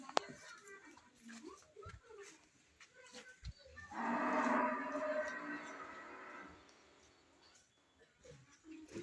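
A cow moos once in a long, low, steady call partway through, set against people talking and the clatter of a stalk-chopping machine at a farm.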